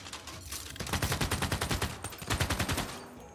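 Sustained machine gun fire in the strategy video game Civilization 6 rattles in a rapid, even stream of loud bursts, pausing briefly partway through before resuming, with no voices.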